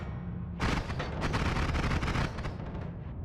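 A loud, roaring burst of explosion noise from a duck blowing up in the video game Noita, erupting suddenly after a quieter start and rumbling for a couple of seconds before fading.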